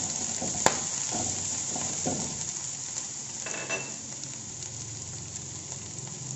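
Green chillies and curry leaves sizzling in hot oil with chopped ginger and garlic for chicken cutlet, a steady close hiss with a few light utensil knocks and stirring scrapes, no talk.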